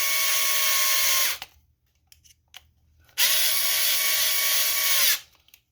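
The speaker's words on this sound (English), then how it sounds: "I'm just going to run them down closer with the screwdriver," An electric screwdriver drives screws into plastic on a custom build, two steady high whirring runs of about a second and two seconds each, close and loud, separated by small clicks and handling noise.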